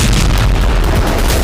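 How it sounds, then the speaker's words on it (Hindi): A massive explosion blast in Russia's Rostov region, a loud, sustained rumbling roar that fills the whole moment and dominates without any voices. "ये तस्वीरें रूस के रोस्तोव प्रांत की हैं, जहां जबरदस्त ब्लास्ट के साथ ही आसपास का इलाका थर्रा उठा।"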